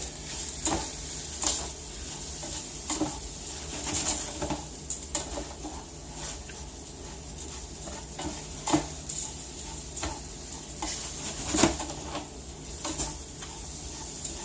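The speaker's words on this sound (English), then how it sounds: "And just cook the rice just like this for a few minutes. Get it all mixed in." Rice toasts in a pan for a rustic mushroom chicken dish, stirred with a spoon: soft steady sizzle broken by repeated scraping clicks and taps at an irregular rhythm, close and fairly quiet, with no talking.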